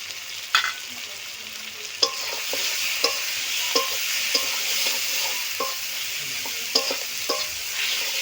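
Spice masala with chilli powder fries in a pan under a continuous soft sizzle, punctuated by regular clinks and scrapes of a spoon stirring against the metal, with no talking.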